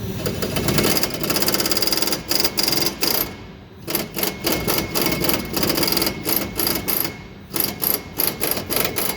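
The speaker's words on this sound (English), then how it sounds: "Okay, now when I am going to loosen this nut, watch the vice grips." A 3/8 air impact tool hammers on a Ford Super Duty shock nut in rapid rattling bursts, loud and close, with brief pauses between bursts.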